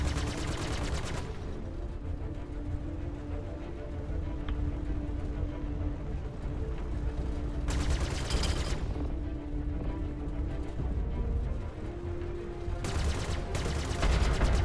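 Spaceship cannon fire in a Star Citizen 1.3 dogfight: three short, dense bursts of rapid shots spaced several seconds apart over a constant low engine drone.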